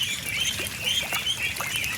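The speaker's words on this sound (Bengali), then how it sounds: "আজকে আমাদের এই হাঁসগুলি পানিতে ছাড়া হয়েছে" A large flock of ducks, some three to four hundred, quack and chatter softly in a loose cluster on the water, a low, continuous outdoor murmur behind their calls.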